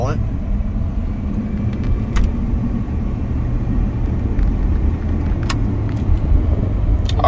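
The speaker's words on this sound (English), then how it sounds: "wanted to get this truck up to operating speed here, highway speeds" Steady road and engine drone from inside a 1996 Ford F150 4x4 automatic pickup truck cruising near highway speed, a constant low rumble with faint occasional clicks.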